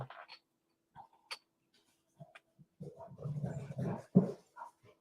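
A dog whimpers and whines in short scattered bursts near a quiet indoor spot, building into a longer run of louder, strained vocal noises toward the end.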